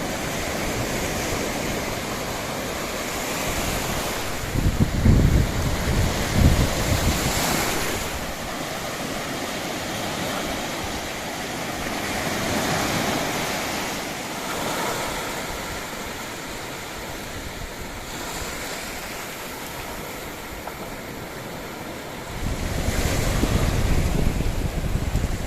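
Sea waves at Bakkhali beach in South 24 Parganas roll in as a broad, steady wash of surf, with louder breaking surges near the start and end and wind buffeting the microphone throughout; no voices.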